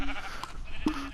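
Sheep bleating in the Minecraft video game, two short tonal bleats spaced under a second apart over a busy game background, with no talk.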